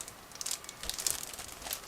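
Plastic bag crinkles as a sprue from an Eduard 1/48 Fokker Dr.I model kit is unpacked, close, soft rustling in short irregular bursts.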